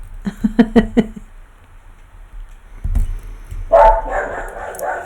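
A dog lets out a rapid string of barks, pauses, then barks again with a louder, rougher burst, fairly close by.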